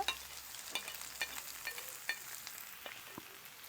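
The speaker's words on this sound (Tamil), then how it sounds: "இனி நாங்கள் இந்த வெங்காயத்தை போடுவோம் வெங்காயத்தை பொன்னிறமாக முருக விடுவோம்" Onions frying in a pan until golden for tomato rice, a steady soft sizzle with scattered crackles and pops, close and continuous with no talking.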